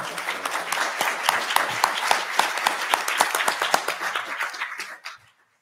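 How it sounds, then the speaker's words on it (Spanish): Audience applause for a guest speaker at a lecture on the world in 2023, a dense steady clatter of many hands clapping that holds for about five seconds, then cuts off quickly. "un aplauso"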